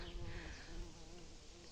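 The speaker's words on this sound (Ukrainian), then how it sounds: "Бджоли б'ються." Bees buzz in a close, continuous drone with faint wavering hum, steady throughout the short moment outdoors.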